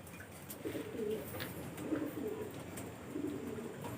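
Pigeons coo softly in repeated low, throaty phrases, a few murmured calls spread across the moment over a steady background hiss; the birds are kept pigeons, one being treated for a snoring, rattling breath condition.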